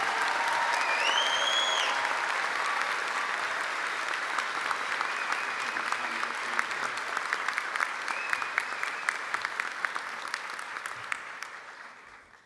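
Applause from the audience for new medical graduates at a college of medicine oath ceremony: dense, steady clapping that runs the full length and slowly thins toward the end, with a few cheers above it.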